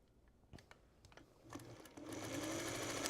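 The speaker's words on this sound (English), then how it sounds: "We'll sew this one on." A sewing machine stitches jelly roll quilt pieces, starting with a few separate clicks and short bursts, then running into a steady, close, whirring hum.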